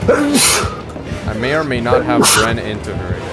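Someone lets out a sharp, close sneeze near the start, with a second burst shortly after, while a person keeps talking casually around it.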